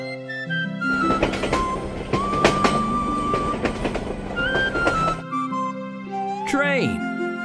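A cartoon train rumbles and clatters for about four seconds with a sustained whistle-like tone and rhythmic clicks, then a brief swooping voice-like sound follows after a pause.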